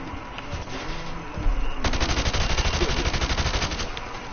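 Sustained rapid automatic gunfire from Call of Duty: Modern Warfare Remastered, shooting targets through wood, starts after a few scattered shots and continues as a loud, dense burst, with no talking.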